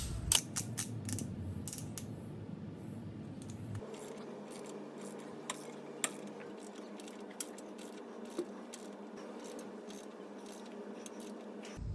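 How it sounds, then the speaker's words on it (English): A torque wrench ratchets while bolts are tightened on a CURT Class 3 tow hitch being fitted to a Lexus GX460, with faint intermittent clicks and mechanical creaks over quiet background noise. "now I'm gonna set the torque wrench to 86 foot-pounds"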